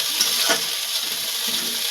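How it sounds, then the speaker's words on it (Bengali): Spiced onion fries with ginger-garlic paste and cumin paste in a pan for a Bihari-style egg curry, giving a steady, even sizzle with no voices. "এবার ভালো করে ভাজা ভাজা করে নেবো"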